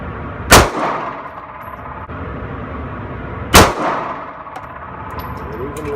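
Two loud, sharp handgun shots ring out at a shooting range about three seconds apart, each followed by a brief echoing tail.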